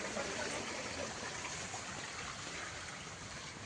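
Water from a waterfall in a forest flows and rushes in a continuous, even broadband hiss, fairly faint and steady throughout, with no voices.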